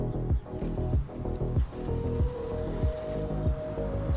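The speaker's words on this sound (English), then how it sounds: "Concrete day, pouring the base here" Wet concrete pours and slops into forms for a base pad under a steel base for a giant meat cleaver landmark, on an overcast day, in repeated squishy surges over a steady machine drone.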